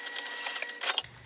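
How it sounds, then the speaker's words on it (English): Sewing machine stitching the exterior seam of a fabric wristlet, a steady close whirring with rapid needle clatter that ends abruptly in a low hum. "So at this point, I'm only sewing the exterior seam down."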